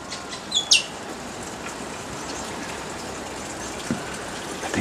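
Wild birds in the Australian bush give a couple of sharp, bright chirps early on, then a faint call later, over a steady hissing outdoor background.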